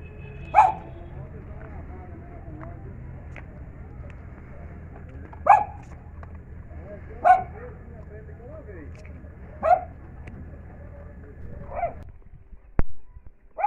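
Street dogs at an outdoor feeding spot bark in single sharp yaps, five or six spaced several seconds apart, moderately near, over a low background murmur.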